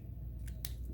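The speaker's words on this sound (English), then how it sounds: "I have my whole pile, and I'm going to cut on that line." Scissors cut through a stack of four sheets of sketchbook paper at once, giving two short crisp snips in close succession over a low steady background hum.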